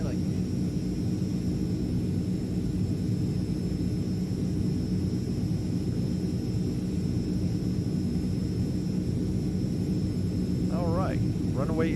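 A steady airplane engine drone from Microsoft Flight Simulator 2020 hums continuously during a group flight over Vietnam on approach to landing, with brief voice chat near the end.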